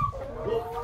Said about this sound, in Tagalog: nagwawala pa rin si Dagul mga kabukals kasi ito bad news